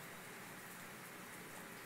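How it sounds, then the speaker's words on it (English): Soft, steady rain falls continuously, a faint even hiss with no voices or other sounds. "because it was raining."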